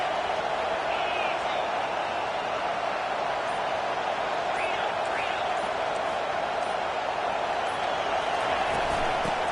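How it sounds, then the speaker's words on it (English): A huge LSU stadium crowd roars steadily and continuously through a college football game against Alabama, a dense, unbroken wall of noise with faint whistles and shouts rising above it. "Listen to this crowd just shaking the girders of this place"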